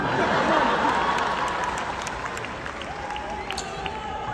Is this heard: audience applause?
yes